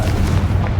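A Confringo blasting spell goes off in Hogwarts Legacy, one short heavy booming burst, loud and close.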